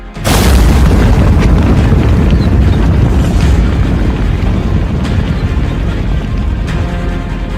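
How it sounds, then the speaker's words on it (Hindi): A huge boom from a long-range missile strike in Russia erupts, then a dense rumbling roar lingers, steady and loud, like a distant blast echoing outdoors with wind buffeting the mic. "लॉन्ग रेंज मिसाइल का धमाका"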